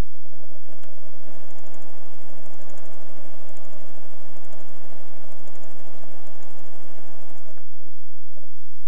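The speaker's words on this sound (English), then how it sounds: "The machine sews with tiny stitches from the left, straight across to the right, takes one stitch forward, then stitches back across to the left" A Pfaff Creative 1475 CD sewing machine stitches decorative patterns through fabric, giving a steady, close mechanical whirr that runs continuously and then stops near the end.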